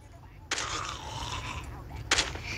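Gunfire in a zombie-themed crafting and building shooter game: two sharp broadband shots, one near the start and another about a second and a half later, over a steady low game background hum.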